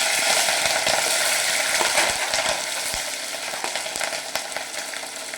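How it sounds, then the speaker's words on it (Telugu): Green chillies fry in about two teaspoons of hot oil in a pan, a dense, steady crackling sizzle with sharp pops scattered throughout, close and fairly loud, with no voices. "ఆయిల్ హీట్ ఎక్కిన తర్వాత ఇక్కడ పచ్చిమిర్చి వేసుకుంటున్నా"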